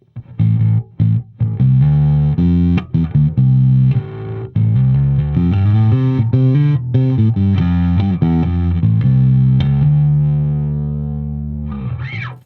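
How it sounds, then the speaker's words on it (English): Bass guitar through an Orange Crush Bass 50 amp playing a loud, sustained riff with a thick parallel overdrive edge blended under the clean tone, notes ringing out and fading at the end. "that distorted overdrive tone to give something overall a bit more massive"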